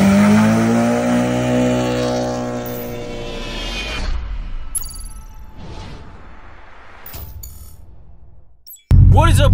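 A car with a full exhaust and VTEC engine revs hard, the roar climbing and falling in pitch over several seconds before trailing off, ending in a sudden loud burst.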